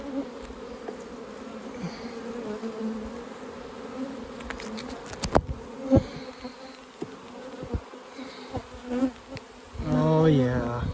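Honey bees hum and buzz steadily around an open hive in dry, hot mountain weather, a close, continuous drone broken by sharp clicks and knocks, with a voice heard briefly near the end.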